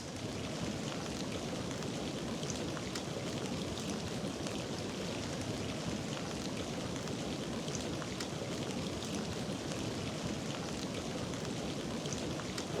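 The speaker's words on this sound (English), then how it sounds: "It's properly raining right now." Heavy rain falls steadily outdoors during a landscape photography outing, a dense, even hiss of drops that runs unbroken throughout with no voices.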